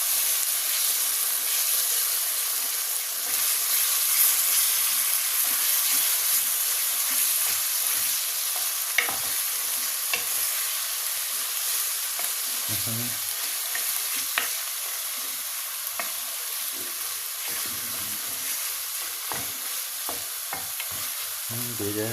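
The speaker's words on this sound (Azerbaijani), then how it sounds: "Və yaxşıca qarışdırırıq" Pasta frying in a pot while being stirred: a steady broad sizzle runs throughout, with scraping stirs breaking through at intervals, close and fairly loud, no talking.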